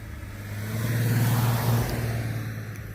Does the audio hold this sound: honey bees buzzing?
no